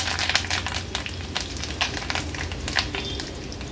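Curry leaves dropped into hot oil with mustard seeds and cumin for a pickle tempering crackle and spit in sharp bursts, a close, moderately loud sizzle with no talking.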